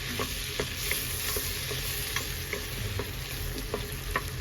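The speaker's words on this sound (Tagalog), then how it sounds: "Ilalagay na natin yung bawang, ha." Garlic frying in a pan for beef caldereta, a steady close sizzle with intermittent clicks of stirring running throughout, no voices.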